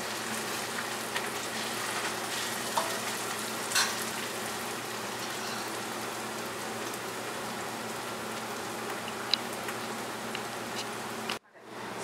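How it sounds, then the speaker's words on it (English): Chopped onions for pav bhaji fry to golden brown in a pan, a steady dense sizzle like light rain running throughout with a few faint stirring knocks, cutting off abruptly near the end. "my onions are cooked and I have this golden brown color"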